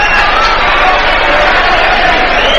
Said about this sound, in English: the home crowd in particular have been rather agitated by Birmingham players just stopping the play whenever they get the opportunity